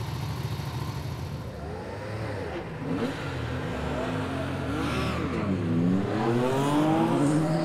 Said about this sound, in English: that's the cars now heading off out on the rolling start, ready for race two